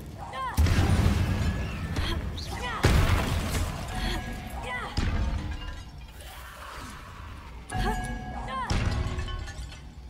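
Repeated Confringo spell blasts in Hogwarts Legacy, several booming, crashing explosions spaced a few seconds apart amid combat noise, with a voice speaking between them.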